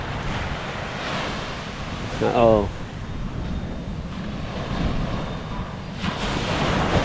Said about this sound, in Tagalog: Tambay muna tayo dito, tabing dagat